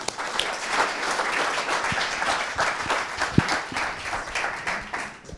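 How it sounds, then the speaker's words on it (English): Audience applause at a university talk by Prof. Oded Shoseyov in Geneva, sustained, even clapping from many people in a hall, with a few sharper individual claps standing out near the middle. "I think they can already get applause for that"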